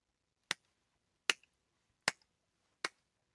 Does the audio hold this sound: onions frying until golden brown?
no